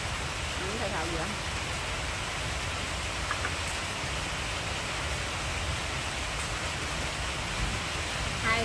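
Heavy rain pours steadily with a dense, even hiss and patter on surfaces around a rural Vietnamese home, continuous and close throughout.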